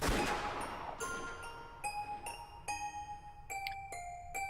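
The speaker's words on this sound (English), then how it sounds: "Therefore, that sound of gunfire couldn't have come from the gun Hideyoshi was holding." A gunshot effect from the visual novel Umineko: When They Cry: a loud sharp blast at the start, followed by a series of ringing metallic chimes and tones that repeat over the next few seconds, with no talking.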